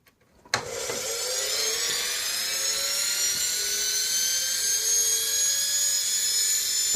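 A converted washing machine motor, wired to its second pin, starts abruptly after a brief click and spins up into a high, piercing whine. It then holds a steady, fairly loud tone to the end.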